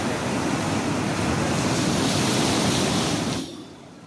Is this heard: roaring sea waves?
yes